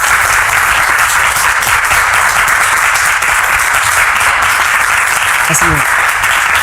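Studio audience applauding a guest on a French talk show, a loud dense steady wash of clapping filling the whole stretch, with a brief spoken word near the end.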